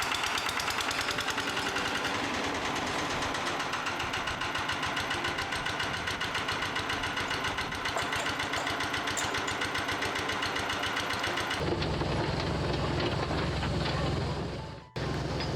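A heritage tourist train engine at an old mine site runs loudly and steadily with a rapid rhythmic chugging knock, close by, then shifts to a lower, rougher running note near the end after a brief cutout.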